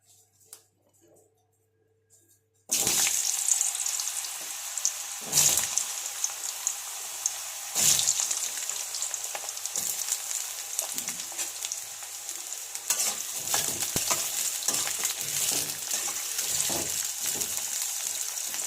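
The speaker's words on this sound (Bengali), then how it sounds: "আলুটা আমি লাল লাল করে ভেজে নেব" Potatoes sizzle and crackle in hot oil in a home kitchen as vegetables for a curry are fried. The sound begins after a short silence, then holds as a loud, steady fry with several sharp bursts when the pieces hit the pan.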